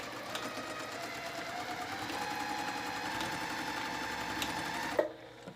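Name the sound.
sewing machine back stitching a kids dress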